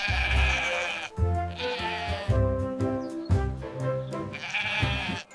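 Several loud, close sheep bleats in quick succession, each a wavering, nasal cry with short gaps between, no voices present.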